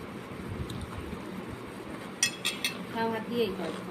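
Spoons clink against dishes as a grandmother and grandchild race to eat chowmein, with a quick cluster of light, bright clinks late on over a low background murmur.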